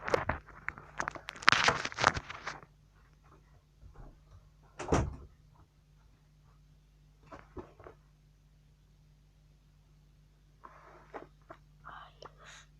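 A door being shut indoors by a child, heard as a few knocks and thumps with shuffling movement, followed by faint soft noises and quiet rustling.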